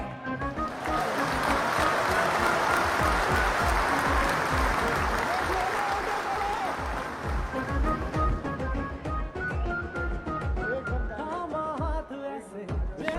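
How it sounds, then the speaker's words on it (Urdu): Audience applause at a youth green movement event in Islamabad welcomes a speaker. The loud, sustained clapping from a crowd fades after several seconds as a voice takes over. "آپ کی بھرپور تالیوں میں"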